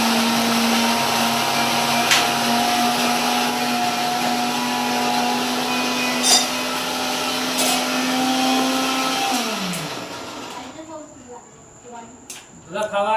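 A loud electric mixer grinder whirs steadily up close while grinding laddu mixture, then winds down and stops near the end, leaving brief clatters.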